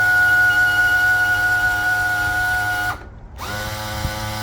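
A Suzuki outboard trim unit lowers with a loud, steady whining squeal and groaning motor drone, briefly cutting out before the high-pitched tone resumes, close and without talking.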